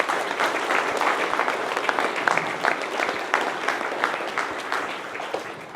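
Audience applause welcoming speaker Scott Masson at a lecture on Christian humanism, steady dense clapping from a crowd that holds throughout and tapers slightly at the end.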